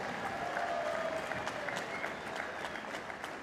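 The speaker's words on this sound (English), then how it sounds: "let's cheer it for both fighters in what was an excellent contest in tonight's main event" An arena crowd at an MMA main event applauds and cheers steadily throughout, a dense wash of clapping without a break.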